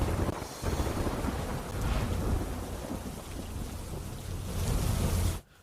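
Heavy morning monsoon rain pours down in Narmada, Gujarat, a dense steady hiss with deep rumbling undertones that swells slightly toward the end before cutting off abruptly.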